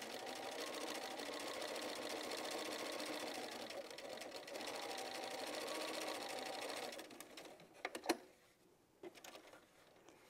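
Sewing machine top stitching a quilt block, running in a steady continuous whir for about seven seconds, then stopping and leaving a few faint clicks and handling sounds.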